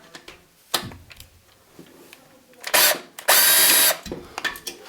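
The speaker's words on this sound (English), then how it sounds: "Remove the 4 screws." A screwdriver backs screws out of a computer PSU fan, giving light scattered clicks and taps plus two louder bursts of rasping metal-on-metal noise.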